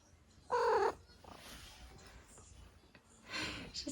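A pet cat settled into a new room lets out one loud, close meow, then quieter breathy snorts and rustling, with a second softer vocal near the end.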